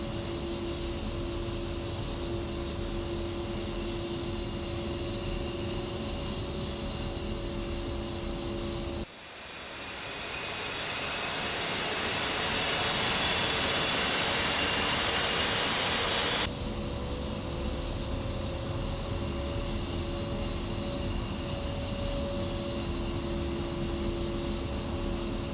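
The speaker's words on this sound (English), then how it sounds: "Once you have both engines running normally at idle power" Twin turbofan engines of an A-10C II Warthog idle in the DCS World flight simulator, a steady loud whine and roar with a sustained tonal hum, interrupted midway by a swelling broadband rush before the idle drone resumes.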